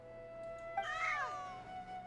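A cat meows in the Genshin Impact video game, a single drawn-out, rising-then-falling cry at moderate level over a faint steady background tone.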